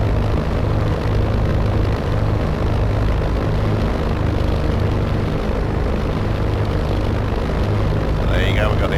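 A propeller aircraft drones steadily as it comes in to land in a flight simulator, a loud continuous engine hum held throughout with a faint chirp near the end.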